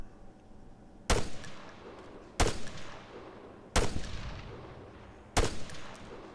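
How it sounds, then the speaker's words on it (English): Gunfire in a video game battle, four loud, sharp shots spaced about a second and a half apart, each with a short echoing tail over quiet background. "The enemy's firing back."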